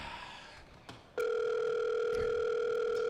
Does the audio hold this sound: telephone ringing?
yes